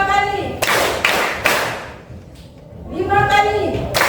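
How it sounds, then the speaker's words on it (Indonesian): Classroom group of teachers clapping hands on command, sharp unison claps in short bursts, fairly close and loud, with a pause between sets. "Tepuk tangan 3 kali."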